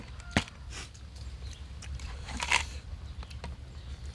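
Eating spicy green papaya salad outdoors, with soft crunchy bites and chewing close by over a low rumbling background, one sharper crunch early on.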